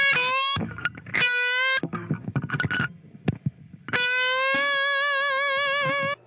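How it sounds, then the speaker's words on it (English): Electric guitar with light overdrive plays a bluesy solo: sustained bent notes and quick runs, loud and close, with no talk over it. "a light overdrive is absolutely perfect for a nice bluesy solo"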